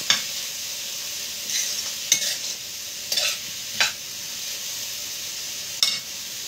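Food frying in a pan with salt added, a soft continuous sizzle broken by several sharp spatula scrapes and stirring clatters at irregular intervals, no talk.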